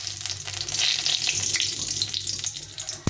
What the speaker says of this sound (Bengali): তেলটাও গরম হয়ে গেছে। প্রথমে শুকনো লঙ্কা দিয়ে দেবো।